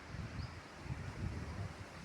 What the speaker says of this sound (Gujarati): બહુ જ પવન ફૂંકાય છે અને વરસાદ તો છાંટોય પડતો નથી.